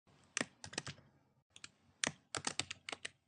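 A file name is typed on a computer keyboard during work in animation software. Close, crisp keystrokes come in two quick bursts of clicks with a brief pause between them.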